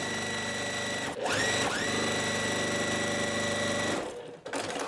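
A sewing machine stitches a strawberry quilt block petal: a steady, fast mechanical whir runs continuously, pauses briefly, then resumes until stopping near the end, close and clear with no talk.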